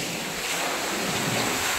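Surf at Chavakad beach in Kerala, a continuous broad wash of breaking waves mixed with heavy wind buffeting the microphone, steady and fairly loud with no talking.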